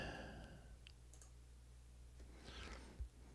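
Faint, sparse clicks of a computer mouse tap out over a low steady hum, a few isolated clicks spread across the span with one slightly sharper knock near the end.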